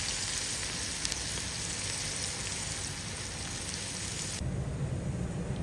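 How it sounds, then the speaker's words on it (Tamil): Steady crackling sizzle of chopped onions frying in a pan, close and continuous, with no talking. "இப்போ பார்த்தீங்கன்னா வெங்காயம் நல்லா வதங்கிடுச்சு"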